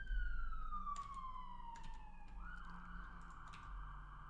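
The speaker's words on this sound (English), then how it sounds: "Oh, nice. I get a siren effect." A short siren sound effect plays from FileMaker Pro software: a clean electronic tone glides steadily downward, then turns into a wavering wail, with a few sharp clicks scattered across it.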